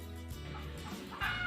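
A chicken gives a brief pair of soft clucks, close by, over a low steady background hum.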